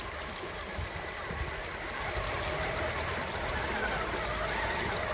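Strong river current rushes past and sweeps along an RC truck, a steady broadband wash of water that swells slightly louder midway and continues without pause.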